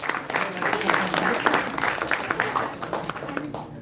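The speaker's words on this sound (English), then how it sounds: "So give a huge round of applause for Rakshak." A student orientation crowd applauds a university drone-building team, uneven clapping with distinct individual claps and some voices mixed in, fading toward the end.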